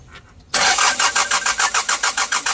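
A Hyundai Porter2 with a D4CB diesel engine cranks as it tries to start, a loud starter churning in a steady rapid rhythm that begins abruptly after a moment of quiet.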